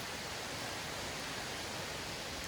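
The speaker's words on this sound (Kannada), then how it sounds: "ಇಲ್ಲೆಲ್ಲ ನೀರು ಹರಿದೋಗೋ ಸೌಂಡ್" Water rushes down a hillside beside a landslide-damaged road near Sirsi, a steady broadband wash with no breaks, faint and seemingly at some distance.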